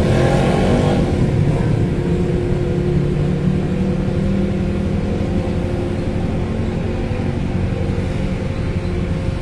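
Steady loud engine rumble and droning motor noise fill a ferry's upper deck as private cars and pickup trucks unload from KMP Kathleen at a port, a continuous close wash of vehicle sound with no speech.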